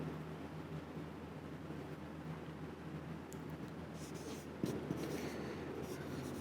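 Marker or chalk scraping across a board during a math lecture, a steady low rubbing texture that runs the whole time with a few sharper strokes near the end, close and fairly quiet.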